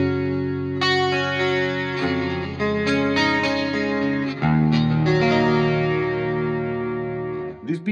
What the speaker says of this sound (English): Then I did one, this Plexi lush clean sound. There I have all the SDs off, chorus in front